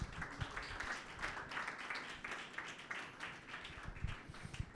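A church congregation at a Sunday meeting applauds in praise of Jesus, a soft, continuous wash of many hands clapping heard from a distance at fairly low level.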